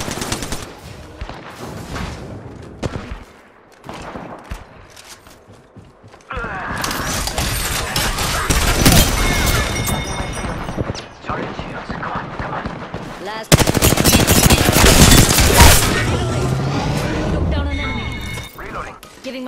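Bursts of gunfire and impacts in an Apex Legends match while playing Rampart, loud rapid volleys with crashing hits, coming in waves with quieter gaps between, under a player's talk.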